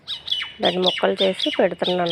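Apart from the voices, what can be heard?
birds squawking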